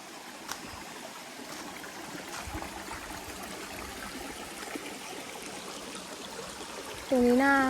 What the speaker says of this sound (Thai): น้ำตกสวยมาก พี่